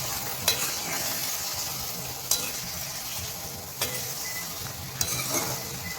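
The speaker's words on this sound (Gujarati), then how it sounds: "તમે જોઈ શકો છો આમાં એને પણ સરખી રીતે એકદમ હલાવી નાખશું." Tomato chutney is stirred in a hot pan, a steady sizzle running throughout with a few sharp spoon scrapes against the metal at irregular intervals, close and without talk.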